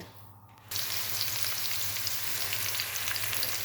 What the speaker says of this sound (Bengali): পেঁয়াজ আর রসুন দিয়ে দিলাম।